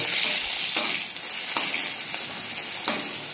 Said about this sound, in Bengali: এই দেখো লাউ ভাজছি, লাউ ভাজবো, বুঝেছো?